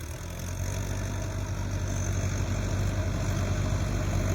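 A tractor engine runs steadily nearby in a paddy field during rice planting, a loud, continuous low rumble that holds even from start to finish.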